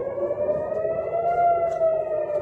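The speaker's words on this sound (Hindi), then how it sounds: "जोरदार सायरन बज रही है पूरे टेल अवीव में।" An air raid siren wails across Tel Aviv during an Iranian missile attack, holding a loud, steady tone that rises and falls slowly and continues without pause under distant city noise.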